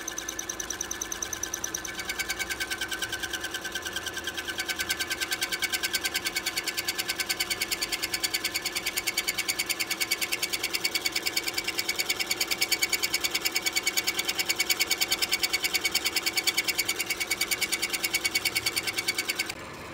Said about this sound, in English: Milling down the bolt head